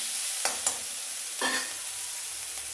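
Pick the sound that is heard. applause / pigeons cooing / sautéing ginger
sautéing ginger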